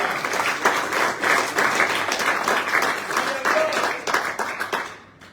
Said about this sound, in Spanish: Dale un mejor aplauso al Señor, hermano.